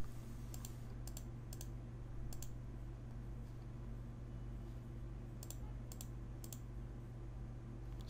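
Quiet clicks of typing a name on a computer keyboard come in small scattered clusters over a steady low electrical hum, with long gaps between the keystroke runs.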